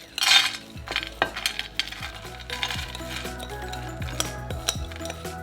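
Crushed pretzel mixture for strawberry pretzel salad tumbles into a 13 by 9 casserole dish, making a scatter of light clinks and rattles, busiest at the start and then coming in smaller bursts.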